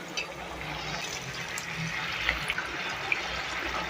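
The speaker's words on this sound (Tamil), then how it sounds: "இப்போ நம்ம புளி தண்ணி ஊற்றிக்கலாம்." Tamarind water poured into a simmering brinjal (eggplant) gravy gives a steady liquid pour at close range, with a few small splashes and clinks as it goes in.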